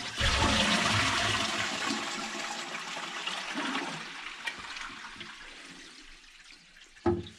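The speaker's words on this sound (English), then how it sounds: "We put some water in the cistern and we're now going to flush it for the first time" A freshly filled toilet cistern flushing for the first time in an off-grid house in France: a loud, close gush and swirl of water that slowly fades to trickling and refilling.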